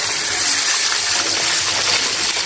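Thin lentil dal made with mustard paste is poured steadily into a pot, giving a continuous close splashing gush that fills the whole moment without pause.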